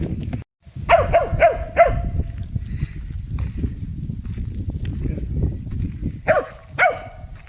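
A dog barks outdoors near a lighthouse on Anglesey in Wales, with a quick burst of several barks early on, a stretch of rustling background noise, then two more barks at the end.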